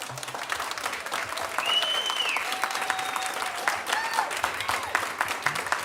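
An audience at a school board meeting claps steadily after a parent speaks, a moderate room-filling patter with a few whoops or cheers rising over it.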